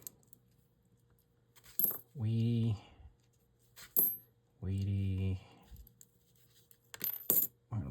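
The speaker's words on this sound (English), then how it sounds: "Let's shuffle out the wheat pennies." Coins, among them old wheat pennies, clink and drop in several short metallic bursts while someone sorts them, with spoken commentary filling the gaps between handfuls.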